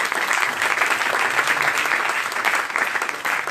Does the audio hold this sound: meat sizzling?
no